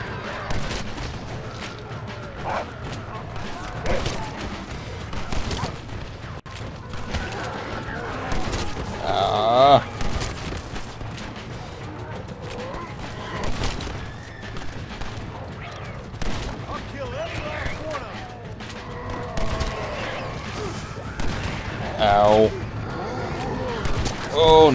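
Repeated shotgun blasts from the Red Dead Redemption: Undead Nightmare video game, sharp booming shots spaced irregularly across the stretch, with someone talking over much of the gunfire.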